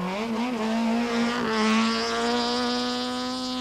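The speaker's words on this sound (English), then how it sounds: "Habich and Judd pushing the Golf hard through the valley" Volkswagen Golf rally car driven hard through a valley stage in 1995, its engine howling loud and near with rising revs, a brief dip around a gear change, then a sustained high-pitched climb.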